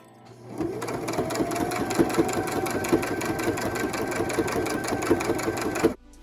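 Sewing machine stitching along a pinned line on a homemade fabric mask, a rapid, even mechanical whirr starting abruptly and running steadily for several seconds before stopping short, close and alone.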